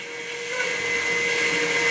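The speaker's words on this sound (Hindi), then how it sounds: "उसके बाद जो मिक्सर है उसको ऑन करते ही ये मकई अच्छे तरीके से मिक्स हो जाएंगे।" A popcorn machine's electric mixer switches on and churns corn kernels in its bowl, a loud steady motor whir with a high tonal whine that builds slightly and holds.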